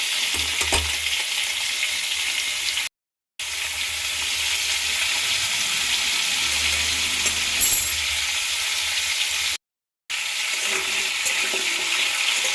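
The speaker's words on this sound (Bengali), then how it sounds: "আলুটা আমি লাল করে ভেজে নিচ্ছি।" Salted potato pieces fry in hot oil with a dense, continuous sizzle close by, broken by a couple of brief silent gaps, and occasional low stirring bumps.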